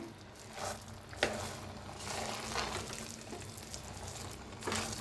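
Grated jaggery and dal cooking together for puran poli, the pot giving a faint soft bubbling and sizzle, with a few light scraping stirs and clicks of a spoon.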